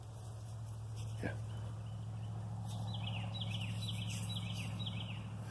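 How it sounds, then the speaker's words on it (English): Birds chirping outdoors during an artifact hunt in a field in December, faint repeated short chirps and a sustained call over a low steady hum, with a brief thump in the middle. "Those are the sounds I like to hear. Birds."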